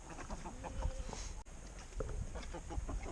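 Several chickens cluck and murmur quietly nearby while pecking up scraps around a horse, in a loose, irregular patter over low background noise.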